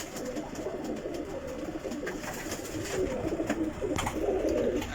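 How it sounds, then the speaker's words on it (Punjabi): Pigeons cooing steadily in a domestic loft during pair breeding, soft low throaty calls repeating over a busy background of other birds, moderately close and growing slightly louder toward the end. "ਆ ਵੇਖੋ ਕਬੂਤਰ"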